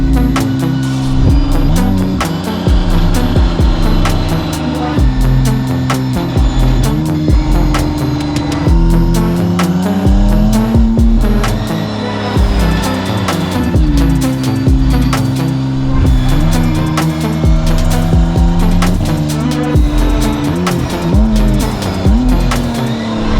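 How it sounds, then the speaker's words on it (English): A Novitec-tuned McLaren Artura V6, 735 hp, with a new exhaust system, delivering a loud, continuous, close-up exhaust bellow and burble that rises and falls with throttle, with no talking over it. "bellow from the exhaust on this V6"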